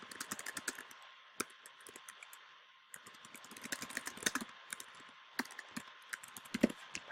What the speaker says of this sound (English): So I'm just going to delete this and go ahead and type in my text.